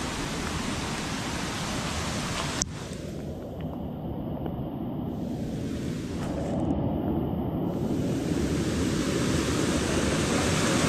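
A creek swollen by heavy rain rushes and roars in a steady, dense wash of water noise that stays loud and close throughout, with no voices.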